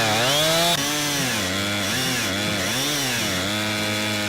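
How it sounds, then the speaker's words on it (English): A chainsaw that has had mechanical problems and was recently repaired runs on wood, its engine whining and wavering in pitch as it is revved up and down, loud and close, with no talking. "So Adam, we had some chainsaw problems, tried to repair it."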